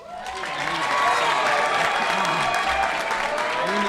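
A crowd at a high school athletic signing day keeps up steady, warm applause for a senior athlete signing a letter of intent. The clapping is loud, dense and sustained for the whole stretch, with a faint murmur of voices underneath.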